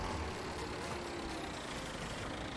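A Massey Ferguson tractor with a front bucket idles in Farming Simulator 17, a steady low engine drone with a faint hum, even and continuous with no talk.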